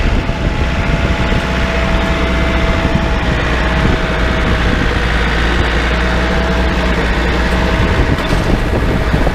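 A tractor engine drones loud and steady while raking and baling a small hay field, a heavy low-pitched roar that holds at high RPM with wind-like noise mixed in.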